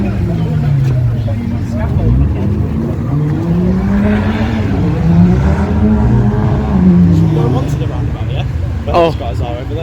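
Car drifting around a roundabout in Croydon amid tyre smoke, the engine droning and revving loudly and continuously with rising and falling pitch, under people talking nearby throughout.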